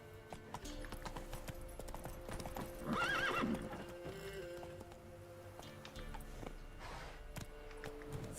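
A horse in The Witcher 3 gallops with rhythmic clip-clop hoofbeats over quiet game ambience, and a distinct whinny cuts in around the middle.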